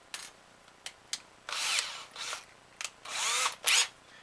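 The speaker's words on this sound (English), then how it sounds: "take our drill here and chuck in our 16th inch drill bit" A power drill gets a 1/16 inch bit chucked in, giving short clicks and ratcheting of the chuck followed by several brief bursts of the motor spinning up, close and alone.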